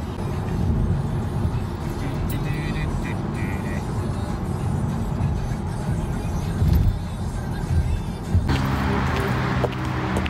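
A car driving along a road on the way to the Lake District, steady low engine and road rumble from inside the vehicle throughout, with a brief louder swell of passing traffic near the end.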